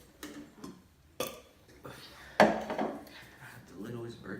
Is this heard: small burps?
yes